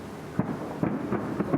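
Fireworks salute at a city day celebration in Smolensk, with several deep booms arriving in an uneven sequence over steady crowd and street noise, heard from a distance.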